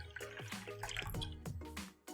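Skyra water poured into a cup, a short, faint trickle and splash of liquid filling the cup, heard on its own without talk.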